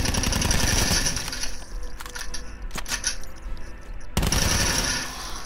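Video game gunfire on the Nuketown map, with rapid automatic bursts and clattering shots coming close and loud in uneven spurts, briefly thinning before a fresh burst near the end.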